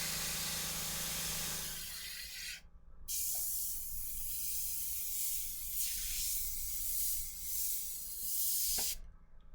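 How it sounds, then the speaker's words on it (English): An airbrush sprays paint on a miniature Stompa model at a hobby workbench: close, bright hissing bursts broken by two brief stops, one near the start and one near the end. "Oh, airbrush."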